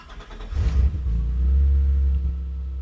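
A BMW E30 engine cranks and fires up on a dyno, catching with a quick rev burst and then settling into a loud, steady low rumble at close range.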